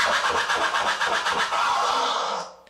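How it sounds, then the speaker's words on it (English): A continuous vinyl scratch, pitched rasp sliding back and forth rapidly, loud and close, with no voices, ending in a brief fade. "So this is the original scratch sound."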